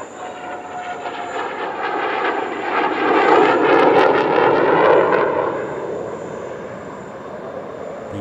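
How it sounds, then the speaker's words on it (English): A Hongdu L-15A Falcon jet trainer flies past at the Dubai Airshow, its engine roar swelling to a peak midway and then fading as it moves away. "Here is the aircraft that will replace those MB339s, the Hongdu L-15A Falcon."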